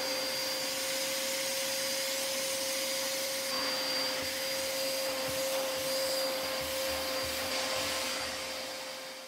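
A Parkside PWS 20 C2 wet-dry vacuum with a crevice nozzle runs on carpet, a loud constant motor whine with a steady tone and slight shifts in airflow as the nozzle moves, no talking.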